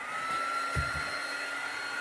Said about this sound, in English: hey, where's my dryer? There it is.